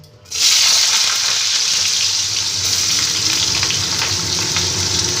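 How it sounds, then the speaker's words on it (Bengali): Potato pieces fry in white oil in a wok, a loud, dense, continuous sizzle that starts abruptly and holds steady and close throughout. "প্রথমে আমি সাদা তেল দিয়ে দিয়েছি কড়াইতে আলুগুলোকে আমি ভেজে নিচ্ছি"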